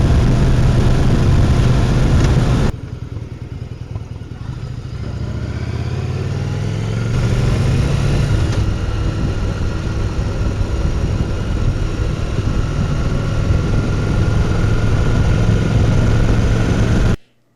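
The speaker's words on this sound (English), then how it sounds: "and I'm on my motorcycle." A motorcycle runs steadily for a long stretch, its engine note rising and shifting as it accelerates, close and loud with constant wind and road roar beneath.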